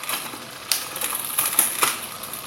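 Worn chain on a Pinarello road bike rattling and ticking over the cassette and chainring while being shifted, a close, steady crisp jingle with a few sharper clicks standing out.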